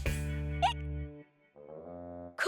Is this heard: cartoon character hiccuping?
yes